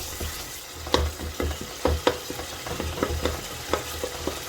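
A spoon mashes and stirs softened tomatoes and spices in a pot while making beef shank bong, giving repeated scraping, squelching strokes roughly every half second over a low, steady sizzle, close and moderately loud, with no talking.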